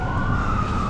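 Ambulance siren wailing on a busy city street in Vancouver's East Hastings area, a steady loud tone holding over rumbling traffic noise throughout.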